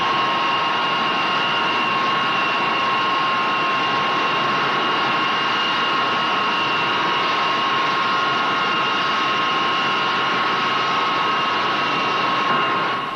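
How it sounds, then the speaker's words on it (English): A British Hawker Siddeley Buccaneer jet aircraft produces a loud, steady engine roar with sustained high-pitched whining tones that holds without a break. "This is the British Buccaneer, produced by Hawker Siddeley."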